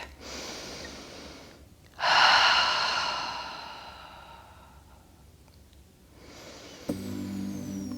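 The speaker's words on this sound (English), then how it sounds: "Nice deep inhale through the nose and exhale through the mouth." Slow, deep breaths during a calm yoga session, with a long, airy inhale through the nose, a softer exhale through the mouth, and a quieter breath near the end, heard up close with no talking.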